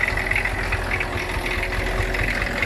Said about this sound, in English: there's a few more tractors coming around